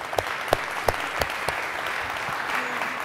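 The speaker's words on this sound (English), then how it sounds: "First applause for Josina joining us." An audience claps for a symposium guest, with a few sharp, distinct claps standing out above a steady bed of lighter applause that carries on evenly through the short burst.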